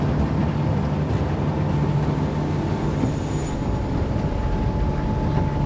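A motorboat speeds across a lake in the Drawsko Lake District, Poland, nearly planing, its steady engine drone and rushing water loud and continuous throughout with no talk.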